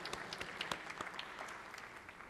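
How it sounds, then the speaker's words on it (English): Brief, faint clapping from a chamber audience for a Kaiser High School varsity basketball player, scattered sharp claps over a quiet background. "Let's have a round of applause for the Vulcan, Justin Mew."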